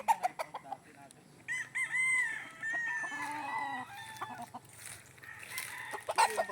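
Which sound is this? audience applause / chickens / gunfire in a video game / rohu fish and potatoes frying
chickens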